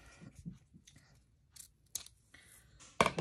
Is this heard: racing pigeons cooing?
no